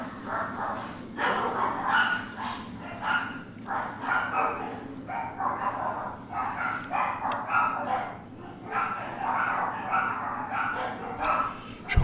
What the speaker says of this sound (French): J'en ai marre de ces chiens.